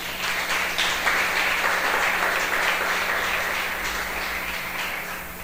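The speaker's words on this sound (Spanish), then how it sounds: "Denle un fuerte aplauso al Señor." A church congregation bursts into steady, loud applause that fills the room evenly for several seconds, a dense wash of many hands clapping with no voices standing out.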